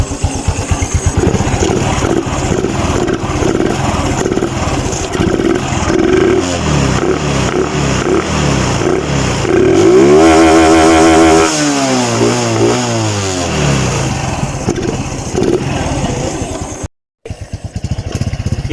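Motorcycle exhaust fitted with a muffler made from a fish can, running loud and close: a rough idle, then sharp revs rising and falling, a brief cutout near the end before the engine resumes.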